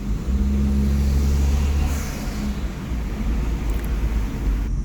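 A turbocharged Chevrolet Cruze with a downpipe exhaust hums low and steady close by, its exhaust droning continuously with a slight rise in pitch as it pulls forward.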